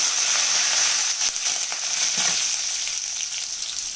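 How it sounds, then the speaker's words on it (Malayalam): Garlic cloves with fennel seeds frying in a pan for chicken perattu, a loud bright sizzle right up close, with a flurry of scraping stirring strokes in the middle that ease off toward the end, no talking. "ഇനി വെളുത്തുള്ളി അല്ലി ഇട്ട് കൊടുക്കാം. ഒന്ന് ഇളക്കി കൊടുക്കാം."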